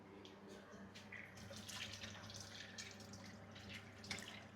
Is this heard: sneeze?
no